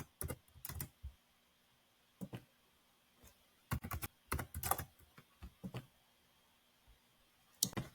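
Keys on a computer keyboard are tapped in short irregular bursts of crisp clicks while a zip code is entered into shipping software, close and quiet with pauses between groups.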